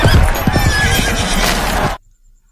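Racehorses at a race neigh loudly over the dense thud of galloping hooves, a close, busy burst that cuts off abruptly after about two seconds.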